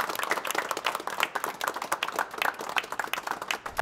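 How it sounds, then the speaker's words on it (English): Hands clapping in steady applause for newly graduated chefs in a cooking-show kitchen, a dense, even patter of claps lasting several seconds with no voices over it. "Guys, a round of applause."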